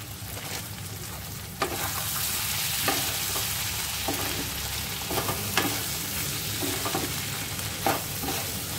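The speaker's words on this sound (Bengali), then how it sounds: "মিনিট দুয়েক এটাকে আমি কষিয়ে নিয়ে তারপরে জল দেব" Curry masala with chicken spice mix, for a peas, paneer and potato curry, stir-fries in a pan: a dense, continuous sizzle broken by sharp spoon scrapes and knocks at irregular intervals.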